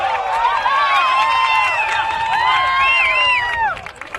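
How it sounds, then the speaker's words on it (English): A large crowd cheers and roars loudly and continuously after a goal at a college men's lacrosse game, Colorado against BYU, before the noise drops away near the end. "you can hear the crowd behind us"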